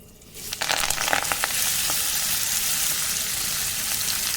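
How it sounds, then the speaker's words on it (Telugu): Fenugreek seeds dropped into hot oil for a green cherry tomato chutney set off a loud, steady crackling sizzle that starts abruptly about half a second in and holds close and even throughout. "ఇప్పుడు అదే ఆయిల్లో మనం మెంతి వేసుకుందాం"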